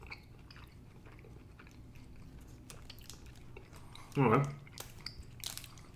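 A single quiet crunchy bite into a Cherry Ripe chocolate bar with a coconut filling lands briefly amid soft room noise, and a person speaks a word.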